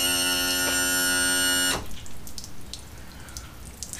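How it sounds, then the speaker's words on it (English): Flushing water drains out of a Mercury 250 Pro XS outboard motor, a soft irregular splashing trickle that follows a loud steady mechanical hum which stops abruptly. "Should let some of that water run out."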